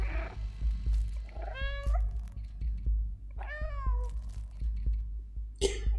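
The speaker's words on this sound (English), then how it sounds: "Is that supposed to be the camera nodding at me, meowing?" A cat in the video game Stray meows twice in clear, drawn-out calls, with a shorter third cry near the end, all over a steady low background hum.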